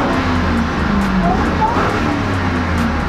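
An 18-year-old car engine revs loudly up close, a steady roaring drone with rising pitch swells throughout a few seconds, with no one talking over it.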